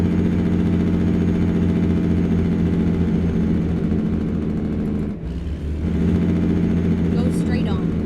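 A modded truck engine in American Truck Simulator drones steadily and loudly throughout, with a brief dip near the middle before the low rumble returns.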